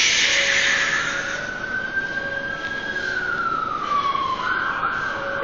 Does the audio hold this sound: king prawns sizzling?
no